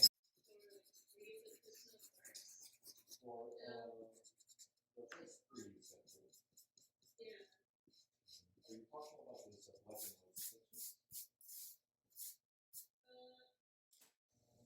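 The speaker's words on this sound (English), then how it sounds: "So that's how I'll erase these ones here." An eraser rubs out pencil guidelines on a paper drawing, giving soft scratchy strokes in bursts that turn into a quick run of short, regular rubs near the end, with a voice talking at times.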